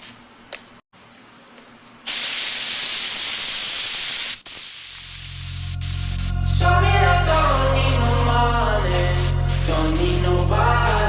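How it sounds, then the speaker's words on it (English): A steady, fairly loud hiss of a spray gun spraying purple pearl paint over carbon fiber at about 22 to 25 PSI lasts a couple of seconds, followed by music with a heavy bass line. "So I'm going to be spraying around 22 to 25 PSI depending on what I like"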